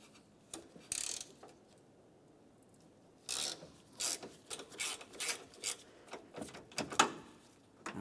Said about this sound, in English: We'll put this right in place and turn these counterclockwise to remove them.